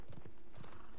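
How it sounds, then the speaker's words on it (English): A horse mount in the video game Realm Royale gallops along, quick rhythmic clip-clopping hoofbeats, faint and steady across a brief moment. "So I'm gonna get to circle on my horse, which is a mount"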